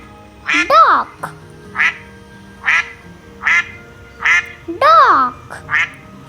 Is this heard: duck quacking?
yes